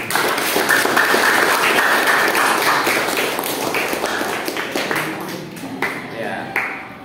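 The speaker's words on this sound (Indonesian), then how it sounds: "Baik, tepuk tangan." Classroom of eleventh-grade students clapping after a mock courtroom lesson, a dense burst of applause that gradually thins and fades over several seconds.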